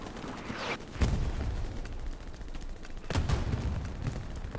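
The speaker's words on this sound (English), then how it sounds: "Rockets everywhere." Rockets and gunfire on a Carentan battlefield in Hell Let Loose, two heavy booming blasts about two seconds apart over a rumbling bed of distant shooting.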